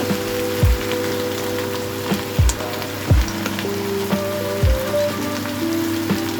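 Food sizzles steadily in a hot pan while sautéing Gochujang, tomato puree and lamb shanks for a sorrel braise, a dense crackling hiss with occasional louder pops and a few clunks from the pan and utensils.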